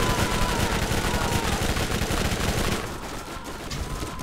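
Dense, continuous gunfire from Borderlands, rapid automatic bursts layered into a loud fusillade that eases slightly near the end.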